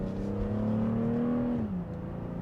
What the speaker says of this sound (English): first I'm gonna drive 2023 BMW X3 M40i